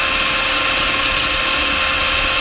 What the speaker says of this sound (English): So after I got the hole drilled out